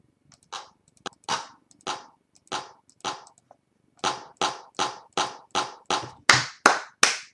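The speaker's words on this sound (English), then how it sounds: "That's a 909 clap" Roland 909 drum machine clap sample, struck about fourteen times as sharp, crisp hits, loosely spaced at first, then in a steady rhythm that gets slightly louder toward the end, with no other sound.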